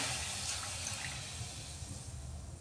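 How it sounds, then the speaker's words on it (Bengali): A couple of spoonfuls of water are poured into a kadai while making sesame brittle with jaggery, a brief, close rush of splashing liquid that fades slightly over a few seconds. "এখানে কড়ার মধ্যে দিয়ে দিচ্ছি আমি দুই তিন চামচের মতো জল"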